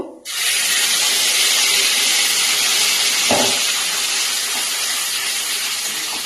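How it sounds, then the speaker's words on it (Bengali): A spice paste of green chilli and raisins is poured into hot tempering oil in a kadai, bursting into a loud, steady hiss that holds for about six seconds, with a brief clatter midway and no talking. "এবার কড়াইয়ে মশলাগুলো মানে ফোড়নের মধ্যে ঢেলে দেব"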